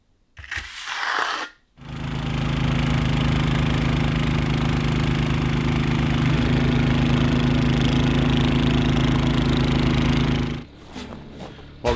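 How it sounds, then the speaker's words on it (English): A snowblower engine runs steadily with a loud, even mechanical drone for about nine seconds after a brief start, then cuts off abruptly. "Well, the snowblower's running again, besides running out of gas."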